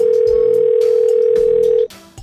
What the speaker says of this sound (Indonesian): Coba kita telepon dulu ya